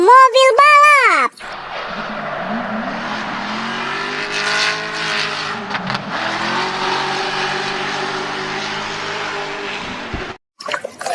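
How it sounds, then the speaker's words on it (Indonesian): A toy race car lets out a loud, sustained engine rev lasting several seconds, rising and falling in pitch, just after a short, high voiced exclamation at the start. "Wow, mobil balap."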